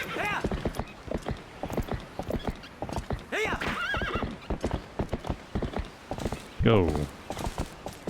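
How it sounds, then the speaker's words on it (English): Horse in the Zelda Twilight Princess video game, with rhythmic clip-clop hoofbeats at a gallop and then a loud neigh near the end, while a person briefly speaks. "Where's my horse? There you are."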